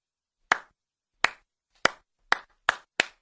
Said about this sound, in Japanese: 拍手で送り出す。